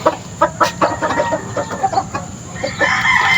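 Chickens cluck in a repeated, close-up chorus on a farm in Bulacan while a rooster crows near the end, the calls rising over a steady, busy background of fowl.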